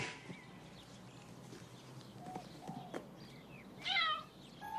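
A faint cat meow rises briefly near the end over a quiet background hiss, with a few soft short sounds before it.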